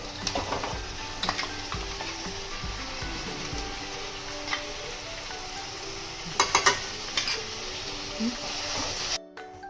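Onions sautéing with ginger garlic paste in a pan for biriyani, a continuous close sizzle with intermittent clinks and scrapes of stirring, cutting off abruptly at the end.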